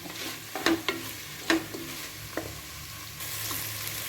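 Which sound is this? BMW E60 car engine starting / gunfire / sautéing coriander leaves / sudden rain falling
sautéing coriander leaves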